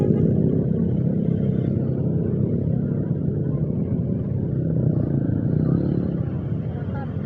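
Motocross motorcycles at a motocross arena, a continuous loud low engine rumble throughout with background crowd noise.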